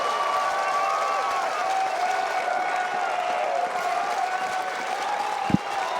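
A baseball crowd at a night game between the Winnipeg Goldeyes and Amarillo Thunderheads applauds and cheers in a steady distant roar, with a sustained whistle-like tone drifting over it and one sharp thump near the end.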